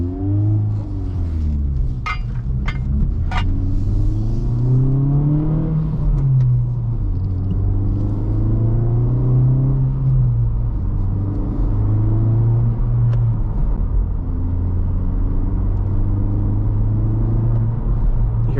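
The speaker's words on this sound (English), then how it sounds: "hear a little bit of the turbo blow off." A 2024 Honda Civic Type R with a six-speed manual drives along, its engine rumbling and rising and falling through the revs, with a few short sharp hisses early on, heard from inside the cabin.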